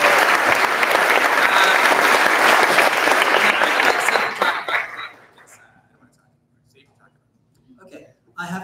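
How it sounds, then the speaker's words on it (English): An audience at a comics awards ceremony gives dense, loud applause for several seconds, which then tapers off into near silence before a voice resumes. "A round of applause for Phyllis."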